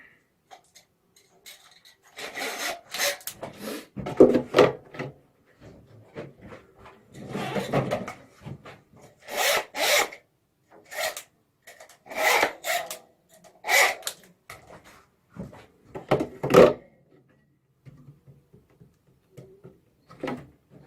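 Wooden beehive frames handled while their wires are tightened down, producing intermittent close rubbing, scraping and knocking sounds in separate bursts with quiet gaps between them.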